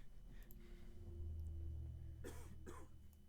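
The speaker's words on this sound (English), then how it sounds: "Nice cough" A couple of short, sharp coughs near the end, following a low background hum.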